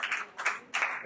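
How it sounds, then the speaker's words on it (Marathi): An audience applauds to welcome a grandmother on stage at a TV serial celebration event, in three short bursts of clapping. "वा, जोरदार टाळ्या झाल्या पाहिजे."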